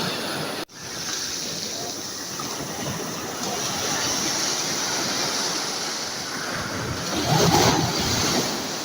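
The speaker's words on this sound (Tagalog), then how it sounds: "Ayan mga alunan." Ocean waves washing onto a sandy beach in the evening, a steady loud rushing surf with wind buffeting the mic and swells building toward the end.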